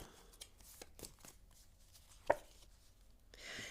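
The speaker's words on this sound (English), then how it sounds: "I am shuffling." Tarot cards being shuffled by hand, a few soft papery riffles and taps spread over several seconds with one sharper snap near the middle, close and quiet with no speech.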